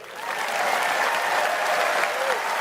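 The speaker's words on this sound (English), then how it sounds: "to get a round of applause afterwards" A political rally crowd in Birmingham breaks into loud, sustained applause, a thick unbroken roar of many hands clapping that swells in the first moment and holds steady to the end.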